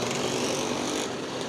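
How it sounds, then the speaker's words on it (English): Scooter engines at the 2025 Isle of Wight scooter rally, a loud, continuous buzzing drone of small motors running together nearby, with no talking. "Every year, hundreds and hundreds of scooters descend upon the Isle of Wight,"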